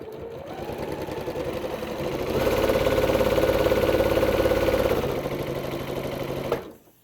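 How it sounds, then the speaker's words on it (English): A sewing machine runs in one continuous stitching pass across quilt fabric pinned to a paper foundation pattern, its rapid needle whir rising to a steady, close hum for several seconds before slowing and stopping. "And then I can stitch directly on the line between D2 and D3."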